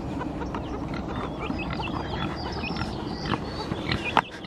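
Farmyard chickens clucking, soft scattered clucks and faint calls over a steady outdoor background, fairly distant, with one brief sharper sound near the end.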